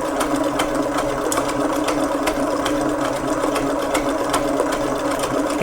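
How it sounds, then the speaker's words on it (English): Electric mixer at speed 7 whisking eggs and sugar for madeleine batter, a loud continuous motor whir with rhythmic ticking and rattling throughout, no talking. "This mixture is supposed to be whisked up till it turns pale yellow in color, and it becomes very silky."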